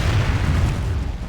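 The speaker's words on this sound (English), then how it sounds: "This tower's getting hit." Artillery shells pounding a castle tower during a siege battle in Total War: Medieval 2, a dense, continuous low rumble of booms filling the short clip without pause.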